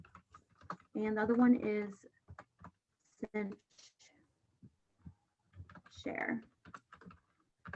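Quick bursts of typing on a computer keyboard during an online meeting, with close clicking keys scattered between a person's speech.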